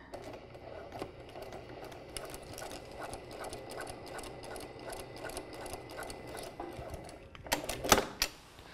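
A sewing machine stitches along a line of earlier stitching on kimono-sleeve fabric, a steady rapid mechanical whir that runs through the whole stretch. Near the end it breaks into a few louder clicks and clunks.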